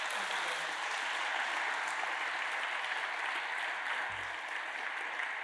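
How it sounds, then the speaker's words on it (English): Steady audience applause at an Indigenous oration event, a dense, even wash of clapping from a large crowd that holds at a constant level throughout with no voices over it. "Another big round of applause."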